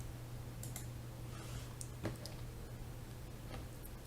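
Right arrow key on a computer keyboard being tapped, several light faint clicks scattered irregularly over a steady background hiss, with no talking.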